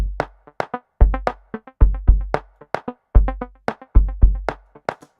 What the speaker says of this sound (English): So normally if you put a delay behind it and it's partly wet and partly dry, it will sound something like this.